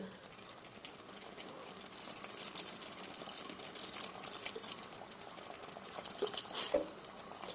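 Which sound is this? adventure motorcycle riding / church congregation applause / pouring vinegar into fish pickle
pouring vinegar into fish pickle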